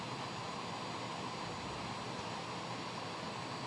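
Aermacchi MB-339 jet engine idling in Microsoft Flight Simulator 2020, a steady, even broadband roar with a faint whine, constant and unchanging, no voices.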